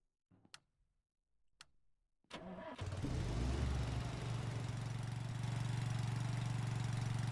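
A car's engine is started: a few faint clicks and ticks, then the starter catches and the motor roars into a loud, steady idle that continues to the end.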